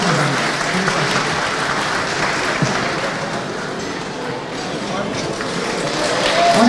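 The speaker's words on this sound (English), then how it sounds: "On applaudit encore une fois" Loud, sustained applause fills a room at a finance event, steady dense clapping from a crowd with voices underneath throughout.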